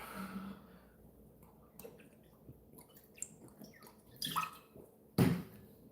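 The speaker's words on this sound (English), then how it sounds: "Let me drink some water." Person drinking water, soft close sips and wet swallowing sounds spread across several seconds, with a louder gulp and clink near the end, no talking.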